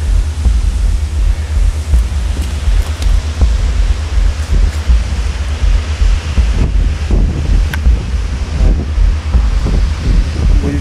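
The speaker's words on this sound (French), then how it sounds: "on entend le bruit de l'eau qui vient se fracasser en bas de la falaise" A waterfall crashing at the foot of a cliff beside a torrent during snowmelt at Pas du Roc, a broad steady roar of water mixed with gusty wind buffeting the microphone.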